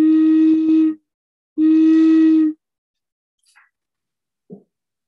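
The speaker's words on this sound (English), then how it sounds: "This is another very simple whistle." Two sustained blasts from a simple carved wooden whistle, each about a second long, with a breathy, slightly airy tone, followed by quiet.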